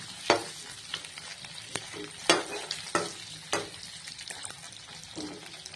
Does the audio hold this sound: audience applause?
no